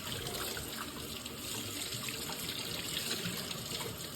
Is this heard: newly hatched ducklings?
no